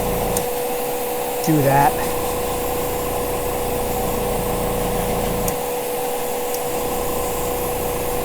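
An airbrush sprays paint with a steady hiss of air that runs through most of the stretch, with brief breaks, a short tonal squeak and a few words of talk near the start.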